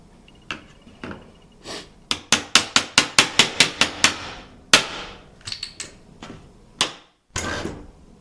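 Solid wood trim pried off a wall with a trim removal tool gives a rapid series of sharp cracking snaps and pops, about a dozen loud bursts in quick succession, with a few scattered cracks before and after and no talking.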